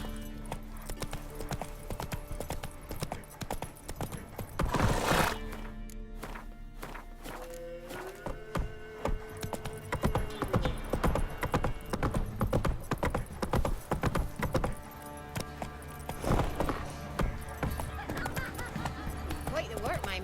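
Hooves of Roach, the horse in The Witcher 3 game, clop in a fast steady gallop throughout, mixed with goose-like honks and other in-game effects, with brief voices speaking over it.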